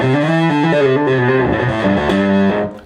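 An Acoustic 450 solid state amplifier with flat EQ and the treble all the way off, playing loud distorted guitar notes and chords that shift steadily, with no talk, ending in a quick fade.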